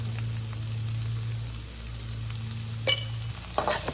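Onions with salt sautéing in a pan, a soft continuous sizzle under a steady low hum that cuts out near the end, with a brief bright clatter just before it stops.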